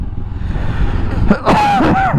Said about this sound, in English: I wish I could lose this flaming cough.